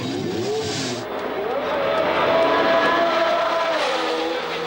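A Formula 1 race car engine screams loudly and close, its pitch climbing and falling in sweeping shifts like a car working through gears on track, with no talking.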